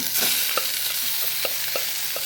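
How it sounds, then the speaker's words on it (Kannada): Cooked rice is tipped into a hot pan and stirred for Mangalorean coconut cucumber rice, with a steady sizzle and a few soft scraping clicks of the spoon, close and with no voices. "ಇನ್ನಿಲ್ಲಿ ಏನು ಬೇಯಿಸಿಟ್ಕೊಂಡಂತಹ ಅನ್ನವನ್ನು ಇದರಲ್ಲಿ ಹಾಕೊಳ್ಳೋಣ"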